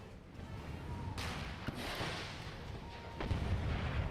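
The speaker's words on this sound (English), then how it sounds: "we're going to have to count on our other artillery unit to take out the walls here" Artillery firing on city walls in a battle in Empire: Total War, set at Vienna, with distant booming shots and a rumbling roar of battle between them, two or three sharper reports spaced a couple of seconds apart.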